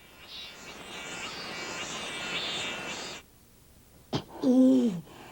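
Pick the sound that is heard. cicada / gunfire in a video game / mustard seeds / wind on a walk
cicada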